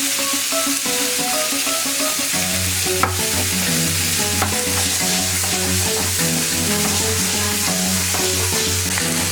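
Shallots and chillies frying together in a pan for a tilapia fish dish, a steady close sizzle with stirring scrapes, heard under continuous background music with no talking.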